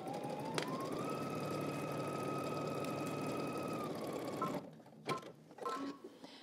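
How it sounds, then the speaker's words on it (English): A home sewing machine runs steadily, stitching down a garment pocket at a 3/8-inch seam allowance, a continuous close whirring hum that stops abruptly, followed by a few brief mechanical clicks and handling sounds. "We're gonna stitch this down using 3/8 of an inch seam allowance."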